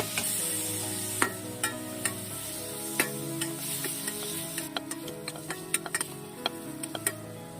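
Prawn masala sautés in a pan with a soft, continuous sizzle, while a spoon clicks and scrapes against the pan every second or so, close and clear.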